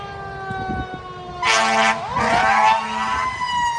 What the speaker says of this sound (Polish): Straż pożarna amerykańska pełną parą na kogutach i syrenach, proszę